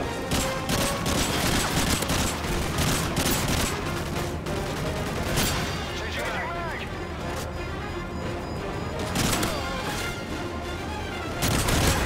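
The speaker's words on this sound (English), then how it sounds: "Oh, they're shooting at me in front." Enemy gunfire in Modern Warfare 3 Special Ops, dense rapid shots and crashing impacts throughout, with someone talking under the constant barrage and louder bursts near the end.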